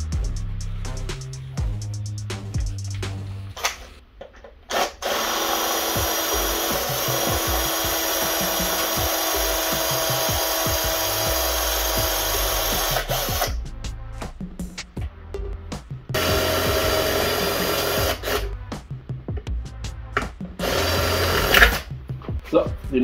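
A power drill bores out the rivets on an ice skate boot, a long steady grinding whine broken by brief pauses and restarts, with people talking in the background.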